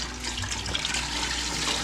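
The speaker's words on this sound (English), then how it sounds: "We're going to add our 4 cups of water" Water pours steadily from a tap or measuring cup into a pot of potatoes for soup, a continuous splashing rush at moderate volume with no talking.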